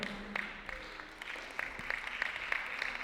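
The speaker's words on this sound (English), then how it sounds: "Please give a round of applause for yourselves and everybody here today." An audience at a Ramadan festival presentation claps, with scattered hand claps ringing out sharply over a quiet hall.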